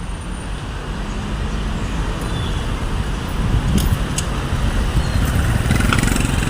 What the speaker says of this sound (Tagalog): IT Park traffic situation is good.